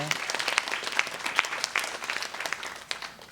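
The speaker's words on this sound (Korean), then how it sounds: "박수로 축복하겠습니다." A church congregation claps during a worship service, a fairly soft and uneven patter of hands with a few sharper individual claps standing out, heard alone without talk.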